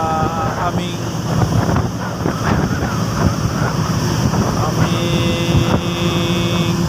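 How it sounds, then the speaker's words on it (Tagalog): Strong amihan monsoon wind buffets a boat on a sea trip toward Zamboanga, a loud continuous roar of wind noise mixed with waves and engine hum, with someone speaking over it. "Lakas ng hangin ngayon"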